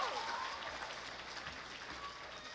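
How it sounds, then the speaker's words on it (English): Audience applause at a university awards banquet, a steady mid-distance wash of clapping hands filling the room without a break. "You're supposed to wait to clap."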